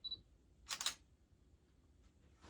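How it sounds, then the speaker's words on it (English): Canon EOS Rebel T7 DSLR shutter firing once, a sharp close mechanical click-clack standing out against a quiet room, with a short beep just before and a faint noise near the end. "There's a little preview of what the shutter sounds like"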